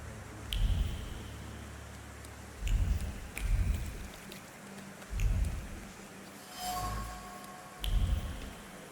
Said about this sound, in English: I can't sleep with this downpour.